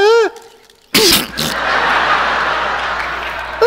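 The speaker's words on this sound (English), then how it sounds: "the new way that everybody is sneezing is actually in their arm" A person sneezes into their arm, a sharp burst after a short sung vocal tone, followed by laughter and applause from an audience.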